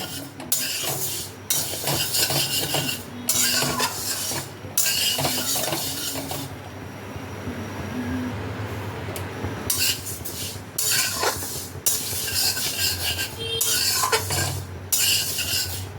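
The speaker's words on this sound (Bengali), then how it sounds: "শুকনো কড়াইতে দিয়ে দিলাম মুগ ডাল। মুগ ডালটাকে ভালো করে ড্রাই রোস্ট করে নিতে হবে।" Moong dal is dry roasted in an empty kadai over a gas flame, the lentils rattling and scraping under a stirring spatula in loud, continuous bursts with a short quieter stretch midway.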